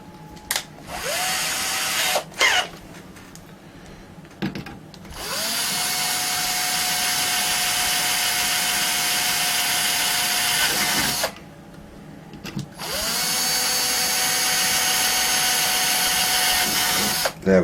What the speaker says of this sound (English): So we'll drill those holes.